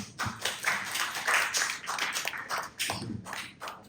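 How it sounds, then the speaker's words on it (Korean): A church congregation claps during a sermon, giving a loose, uneven run of quiet claps that rise and fall in bursts across the room. "박수 한번 주실래요?"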